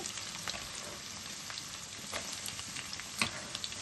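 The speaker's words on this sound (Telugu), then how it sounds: "ఉల్లిపాయలు నూనెలో వేగేటప్పుడు" Chopped onions and green chillies fry in hot oil in a pan for a brinjal and chana dal curry, giving a steady, close crackling sizzle with occasional pops and no talking.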